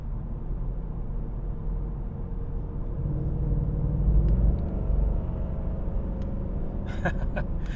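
A Ford Mustang Mach 1 muscle car accelerates with a deep, continuous engine rumble that swells slightly partway through and then settles. A few short clicks sound near the end.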